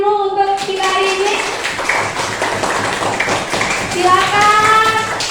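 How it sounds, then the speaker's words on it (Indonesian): Children clapping in a classroom, a burst of rhythmic hand claps between a teacher's spoken lines at the start and end. "boleh tepuk tangan dulu untuk kita hari ini."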